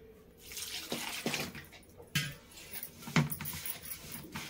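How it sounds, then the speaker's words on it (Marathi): Water splashes and trickles in short bursts into semolina batter in a container, close and fairly quiet, with small clinks between pours and no speech. "तर आता आपण याच्यामध्ये पाणी ऍड करणार आहोत."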